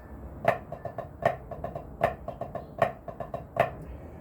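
Snare drum strokes in a flam drag rudiment: an accented flammed hit followed by quicker, softer taps, cycling evenly about five times, close and crisp.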